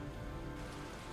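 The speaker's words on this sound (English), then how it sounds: "This is over half an inch of rain now." Steady rain falling in a dense, even hiss with a low rumble beneath, constant from start to finish and no voices.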